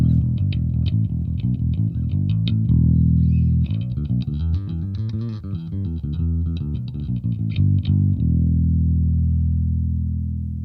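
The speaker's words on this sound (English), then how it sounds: "let's listen to the clean sound of the Ampeg" Clean, undistorted bass guitar played through an Ampeg amp, a steady run of full, round low notes with sustained body and no grit, close and alone.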